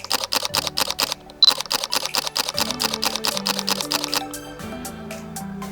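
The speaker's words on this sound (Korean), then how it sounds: "셔터 스피드를 640분의 1로 맞추고 한번 저기 LED 조명을 한번 촬영을" A Fujifilm X100V fires a rapid burst of shutter clicks at 1/640 s while shooting an LED light, a crisp, evenly spaced run of close mechanical ticks that ends in a quieter stretch of faint whirring.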